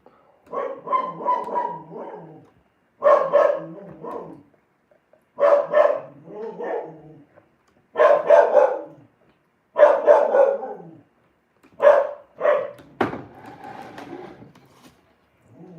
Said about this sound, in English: even if I stand up and grab her snout like this, she will keep trying to bark